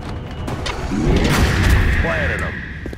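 Weapon fire in the XCOM game during a fight with aliens: a heavy booming shot with a rumbling tail and a rising whine after it, under someone talking.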